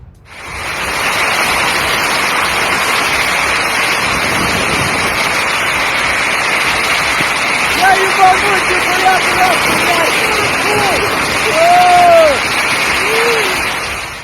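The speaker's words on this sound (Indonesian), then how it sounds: "angin kencang dan badai hebat menyapu wilayah Tuva, Rusia" A strong windstorm sweeps through Tuva, Russia, as a loud, continuous roar of wind and rushing noise that fills the whole stretch, with faint voices calling out briefly within it.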